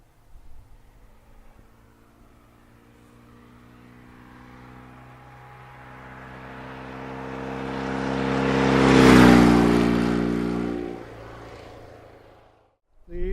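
A BMW R69S motorcycle approaches at cruising speed, its engine drone swelling louder to a peak and then fading away as it passes, followed by a short loud bump at the end.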